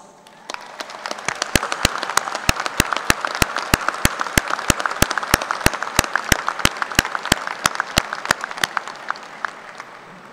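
Applause for family and friends at a spring graduate school commencement: a loud, dense crowd clapping that swells and holds for about ten seconds, with sharp regular claps cutting through the wash before it fades.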